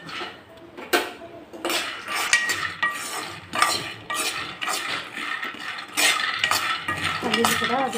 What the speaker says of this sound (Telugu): ఇప్పుడైతే పల్లీలు వేపాలండి